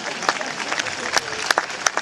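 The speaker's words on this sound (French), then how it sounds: "pour les applaudissements, vous pouvez y aller quand vous voulez" Applause from a live comedy-show audience on a summer evening in Garéoult, France, a scattered, moderately dense patter of clapping with individual sharp claps standing out, voices faintly mixed in.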